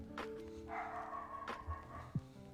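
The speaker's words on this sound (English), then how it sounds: "so I can find out why he's barking" A dog barks a few times, with short yips and a whimpering whine, faint and somewhat distant under a low background hum.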